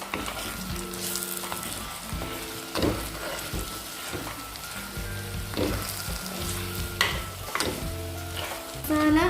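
Masala being mixed into brinjal curry frying in a pan, with continuous sizzling and repeated scraping and clattering stirs, and some music running underneath.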